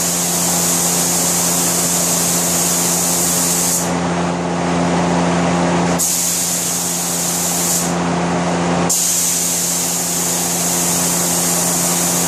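A spray gun lays a coat of lacquer on an antique curio cabinet, a loud, steady hiss over a humming compressor drone, broken by two brief pauses before spraying resumes.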